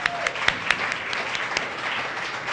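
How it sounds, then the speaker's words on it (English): An audience at an awards gala applauds, with dense, steady clapping filling the room and a few sharper claps standing out, moderately loud and continuous. "let's give our Fit Fam from the East Coast another round of applause"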